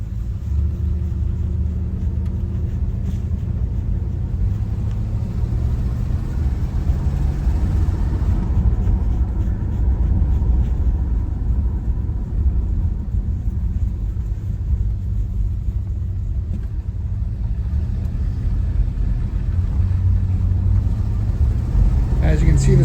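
A 1974 Oldsmobile Cutlass Salon Supreme drives down the road with a steady, low engine rumble and road drone that holds an even level throughout.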